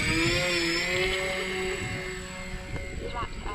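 The twin motors of an X-Fly Twin Nova RC plane whine steadily as it takes off from grass, the buzzing pitch shifting as it climbs, heard under a voice.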